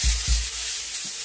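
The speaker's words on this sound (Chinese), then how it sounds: "边炒豆腐呢，最好是颠个锅，尽量少用预铲，这样以免它烂掉" Tofu tossed into a hot wok with scallion, ginger and garlic gives a short burst of sizzling, with two soft thumps of the pan near the start.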